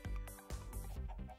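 A chicken in Minecraft (Sky Factory 3) clucks in a few short, close bursts, loud and clear with nothing else behind it.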